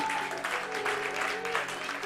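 A church congregation applauds during a service, a dense wash of clapping with a sustained musical tone running beneath it, steady and fairly close.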